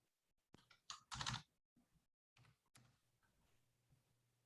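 Typing on a computer keyboard in a quiet room, a few short bursts of close clicks and taps separated by silent pauses, then fainter scattered keystrokes, with no talk.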